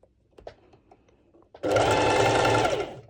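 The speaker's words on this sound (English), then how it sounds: "my sewing machine does not have a problem with it. So I just do a straight stitch over," A sewing machine sews a straight stitch on a bikini top, starting up after faint handling noises and running in a fast, steady whir of stitching for over a second, close and loud.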